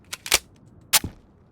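Gunfire in the Road to Vostok video game: a few sharp, loud shots in quick succession, then another close burst after a short pause, with no talking.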